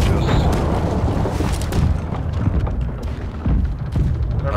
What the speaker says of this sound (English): Starboard side, fire the cannons